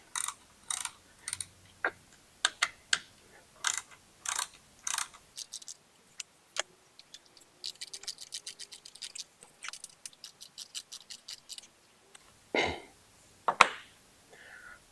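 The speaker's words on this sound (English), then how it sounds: "So after that's tightened down with those 4 button head bolts" Button head bolts being tightened down on a motorcycle adapter plate, heard as close, sharp ratcheting clicks in short bursts, then a quicker run of rapid ticks and a couple of louder clanks near the end.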